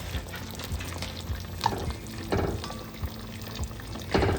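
Quinoa plov being stirred as it fries in a pot, with soft scraping stir strokes and a low steady sizzle, plus a few sharper clinks, heard close and with no talking.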